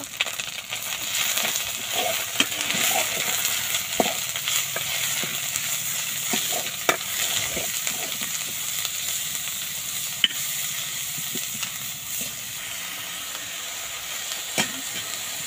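Garlic and onion paste fries in a pan for a mutton curry, a constant sizzle broken by frequent metal spatula scrapes and sharp clinks against the pan, with no one speaking.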